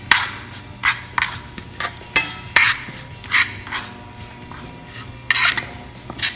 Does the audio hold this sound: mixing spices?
yes